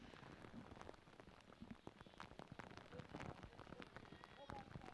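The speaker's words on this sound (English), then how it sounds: "Take a look at how much rain is coming down." Heavy rain pours onto a football field during a youth game, a dense steady patter of drops hitting the ground with scattered sharper splashes, fairly quiet overall.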